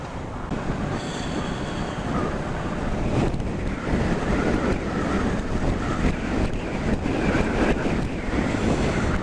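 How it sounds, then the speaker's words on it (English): Strong, steady wind buffets the microphone outdoors near the sea, a dense roaring rush that holds loud and unbroken with gusting swells and no speech. "And it is fucking windy today as well."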